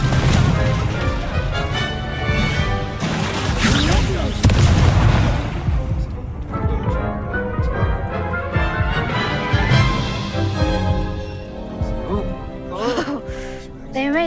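The Confringo spell explodes in the video game Hogwarts Legacy, with loud booming crashes and bursts over game sound while voices speak.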